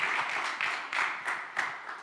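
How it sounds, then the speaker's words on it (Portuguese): A church congregation applauding, a lively ripple of many hands clapping at moderate distance with rhythmic swells, no talk over it. "Será que você pode aplaudir os nossos grupos de crescimento, gente?"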